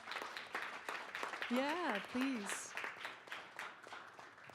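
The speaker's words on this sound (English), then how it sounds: "Everybody stand up so we can clap for you." Applause fills a school district board meeting as the team stands to be recognized, steady clapping from the audience running throughout, with voices talking over it and a brief melodic sung or spoken phrase partway through.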